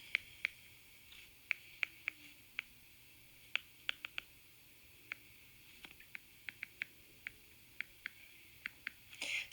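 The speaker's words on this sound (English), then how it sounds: "That's the Apple Pen on the iPad, and there's no real way to get around that noise that you're hearing." An Apple Pen taps and clicks on an iPad screen in a quiet room, giving about twenty crisp, faint ticks at irregular intervals, with no speech.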